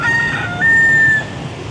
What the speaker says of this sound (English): And the things you see in the morning, a rooster.